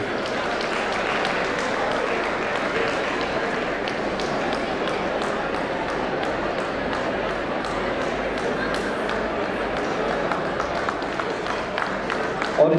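Sustained applause from a large audience at an alumni meet cultural programme, a dense, even wash of many hands clapping continuously throughout, with a faint murmur of voices underneath.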